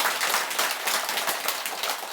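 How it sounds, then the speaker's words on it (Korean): An audience claps briefly at a Buddhist monk's dharma talk; the dense, even patter of many hands is moderately quiet and lasts only a couple of seconds. "일단 박수 한번 쳐주자고요."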